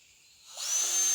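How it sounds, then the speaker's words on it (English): A drill with a serrated saw bit spins up to enlarge a hole in wood, a faint high whine rising over about half a second into a steady, brighter buzz, with no voices. "What I'm using is called a saw bit. Okay, it will drill a hole, but it will also enlarge a hole because the sides are serrated"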